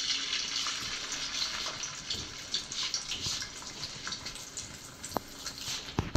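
Beef chips fry in hot oil in a pan over low heat, giving a faint, continuous sizzle with scattered small pops and crackles throughout.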